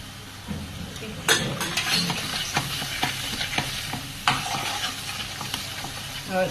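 Chili powder being stirred into sizzling pav bhaji masala in a pan, with a steady frying hiss under repeated scraping strokes and clinks of a spoon against the metal.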